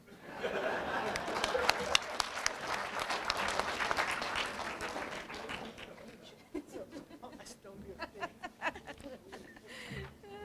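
An audience at an annual Sol Plaatje lecture bursts into warm, sustained applause, dense clapping that swells and then thins out, with scattered laughter and chatter underneath.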